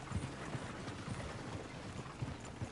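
Horse hooves clip-clop at a steady walking rhythm in Red Dead Redemption 2, soft and somewhat distant beneath a dense, noisy background.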